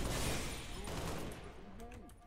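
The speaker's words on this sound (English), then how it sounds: "I like the assault rifle in this." Assault rifle fire in Halo: Reach: a dense, rapid burst of shots dominates the opening moment, then fades as a voice talks over the game sounds.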